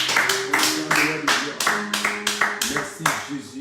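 A church congregation claps in rhythm at a Wednesday service, with a steady run of sharp, even hand claps close by, along with singing voices and music underneath.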